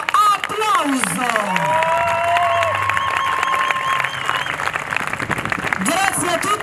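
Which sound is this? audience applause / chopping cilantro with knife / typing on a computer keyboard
audience applause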